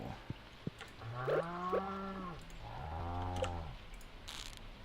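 Cows mooing in the Stardew Valley farming game, two long drawn-out moos close together, following a couple of sharp clicks, with a quiet background and no talk.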